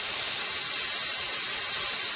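Carburetor cleaner sprayed from an aerosol can while cleaning a 1985 Suzuki Intruder 750 carburetor, a steady, loud, close hiss that runs without a break.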